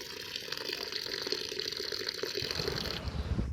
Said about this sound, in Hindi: मैं धो रही हूँ भिंडी।